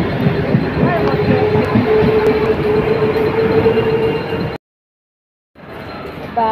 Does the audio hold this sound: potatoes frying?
no